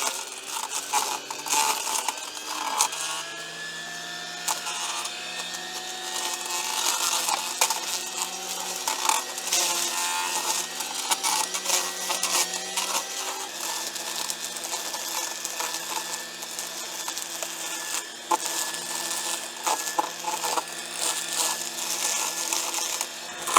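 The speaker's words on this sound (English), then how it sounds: "So we've fitted it up with STIHL's MBKM brush cutter attachment, ideal for long grass, weeds and bramble." A STIHL Kombi battery multi-tool fitted with the MBKM brush cutter attachment cutting long grass, weeds and bramble, a steady whirring motor broken by irregular crackling and snapping as stems are hit.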